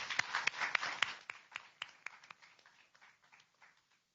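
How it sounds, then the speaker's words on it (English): Light, scattered clapping from an audience at a student transportation competition, starting as a quick burst and thinning out over a few seconds. "Let's give them one last round of applause."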